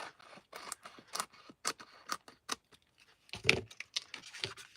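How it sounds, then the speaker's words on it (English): Scissors trim paper scraps for a collaged card: a quick run of crisp snips at close range, irregular and fairly quiet, with a slightly heavier rustle partway through and no one talking. "let's cut this. Let's trim this down."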